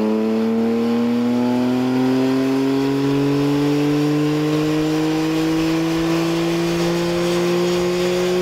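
A 2015 BMW M3 engine revs steadily on a dyno at K&N Engineering, its loud, rising tone climbing smoothly through the gears as one continuous close pull, with no voices over it.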